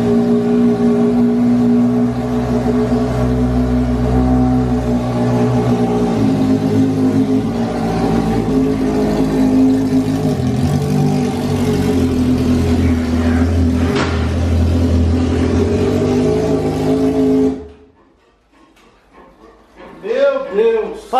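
A Honda Hornet motorcycle with a modified exhaust revs steadily and loudly for about seventeen seconds, the engine droning close by, then cuts off abruptly before people start talking.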